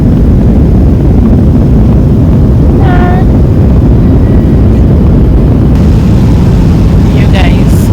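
Steady, loud broadband roar of an airplane cabin during a flight out of Lagos, Nigeria, filling the whole stretch without letup, with a faint brief tone rising over it partway through and no talking.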